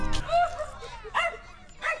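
Several sharp dog barks and yips from a movie scene, loud and close, in short bursts around the start, middle and end, with a brief voice heard near the opening.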